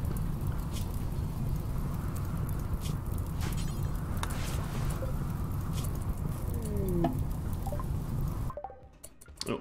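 Rain in the video game RimWorld, a steady soft patter and hiss with faint scattered clicks, fairly even throughout, then cutting out abruptly near the end.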